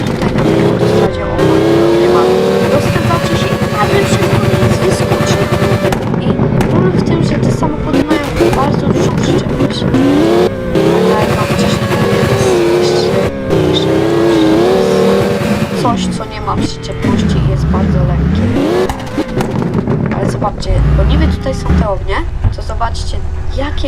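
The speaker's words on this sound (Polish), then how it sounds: "Weźmy sobie BMW M7 czy coś takiego. No I zobaczcie, jedziemy, jedziemy, jedziemy." A BMW M7 driven in the Roblox video game, its engine loud and steady throughout with rising and falling revs as the car accelerates and shifts, ending in several sweeping pitch swoops.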